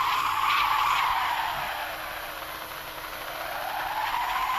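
Drift car tyres squealing in a Roblox Car Driving Indonesia session, a loud, sustained skid whose pitch sweeps down and back up over a continuous engine drone, with no talk.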